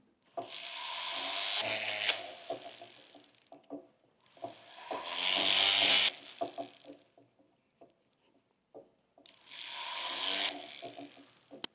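A motor-driven tool cuts grooves into the edges of a metal piece being prepared for welding, giving three long rasping, grinding bursts of about two seconds each, separated by short pauses, loud and close with no talk.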